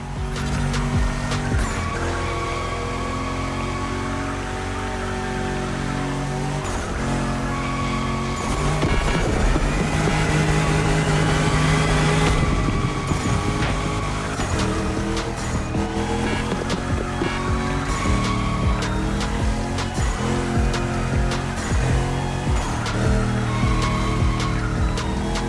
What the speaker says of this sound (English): At this rate, you're going for the eternal drift.